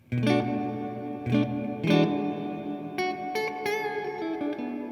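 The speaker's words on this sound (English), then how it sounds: "You're combining the spring reverb of the amp, which is nice and twangy" Electric guitar chords and picked single notes ring with a lush, twangy reverb, combining the amp's spring reverb with a digital reverb pedal, several strikes in loose rhythm. The playing is close and steady, with no voices.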